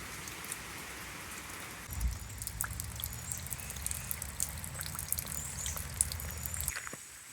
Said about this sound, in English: It's been a very, very rainy week.